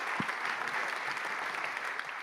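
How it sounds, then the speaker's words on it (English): An audience at a global financial leaders' investment summit applauds a panel, a dense steady wash of clapping filling the hall throughout, loud and sustained. "please give us a round of applause."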